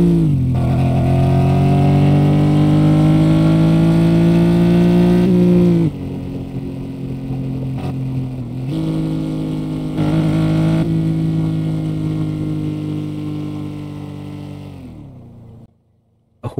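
A car engine in the video game Dealer Simulator revs and holds a loud, steady drone, dips, surges again in repeated pulls, then winds down to near silence at the end.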